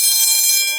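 A Notifier AFP-200 addressable fire alarm system sounds after a smoke detector trips during testing: a loud, continuous bright electronic tone with stacked harmonics, heard alone in a brief burst.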